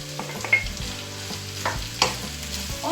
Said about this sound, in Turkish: soğanlarımız da kavurduktan sonra biberlerimizi içerisine alarak